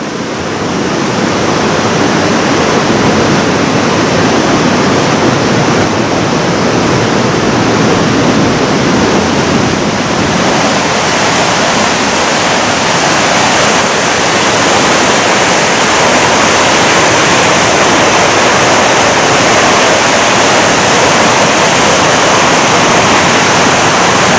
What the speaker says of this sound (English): You can hear the river below me.